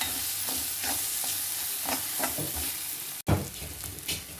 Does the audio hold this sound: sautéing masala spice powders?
yes